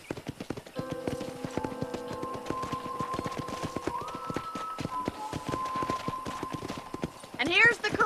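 Steady clip-clop of horse hooves in the video game Red Dead Redemption, rhythmic and continuous under background music, with a whinny-like burst near the end.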